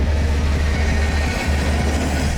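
Moving passenger train giving a loud, steady low rumble and roar, continuous and close with no voices.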